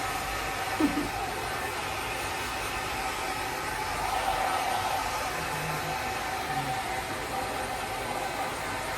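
Steady broadband whoosh of a blower drying dogs after their bath, a constant near hum filling the whole clip with slight fluctuations and no talk.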